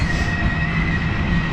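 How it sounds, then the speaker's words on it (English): A train rumbles steadily past near Kelso Conservation Area on the Bruce Trail, loud and continuous with a low roar, a faint metallic whine and clattering wheels. "If you can hear that, that's a train."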